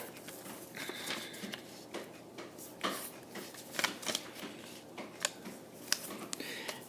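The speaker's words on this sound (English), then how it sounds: "And I'm going to fold the corners and do a blintz base." Duo origami paper crinkles and rustles as corners are folded into a blintz base, with soft irregular crackles and a few sharper creases close to the microphone, no talk.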